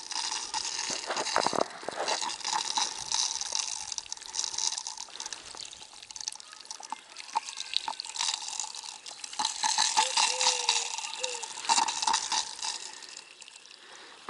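A thin trickle of water runs into a vineyard irrigation furrow in Yasenskaya, Yeysk district, a soft continuous flow with light drips and splashes, fairly faint and steady throughout with no voices.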